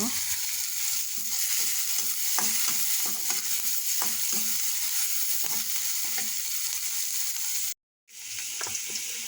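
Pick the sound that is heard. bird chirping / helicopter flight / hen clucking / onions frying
onions frying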